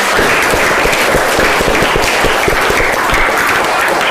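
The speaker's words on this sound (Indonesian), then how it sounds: "Baik, aplaus buat kita semua." A class of students claps in sustained, dense applause for the whole stretch, loud and steady with no talking over it.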